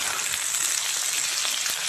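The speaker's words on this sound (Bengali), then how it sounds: "এখানে দিয়ে দিয়েছি পেঁয়াজ রসুন ভাজা ভাজা করছি" Onion and garlic frying in a pan: a steady, close, crackling sizzle of hot oil, bright and hissy, with small pops scattered through and no talk.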